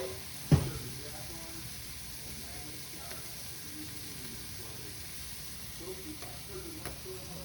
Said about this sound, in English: And so I'm frying off the chicken.